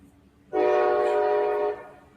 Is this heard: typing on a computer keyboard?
no